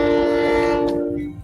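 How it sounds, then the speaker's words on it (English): A loud, steady train horn blares as one sustained chord, then fades away toward the end, with no talk over it. "I got a train."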